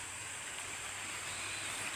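A mountain stream, given as fairly small, flows in an even, continuous hiss of moving water, moderately distant and soft, with no talk.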